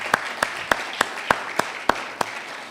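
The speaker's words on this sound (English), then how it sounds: "a round of applause for Madam Treasurer" A few slow, evenly spaced claps ring out in a hall at an architects' institute general meeting, about eight distinct hand claps over a quiet background rather than full applause.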